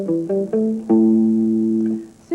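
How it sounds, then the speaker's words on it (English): Single electric guitar notes played with right-hand palm damping, a few short percussive plucks followed by one longer held note, close and clear with no talking. "if you want to play single notes and get quite a percussive sound"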